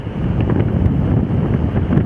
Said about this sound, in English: It's a bit windy here in the beach.